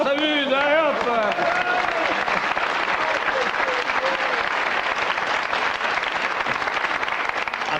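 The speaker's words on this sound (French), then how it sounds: "On applaudit, on s'amuse, allez hop!" A French television studio audience breaks into loud, sustained applause on a comedy panel game show, with a brief vocal flourish at the start before the clapping takes over and runs evenly to the end.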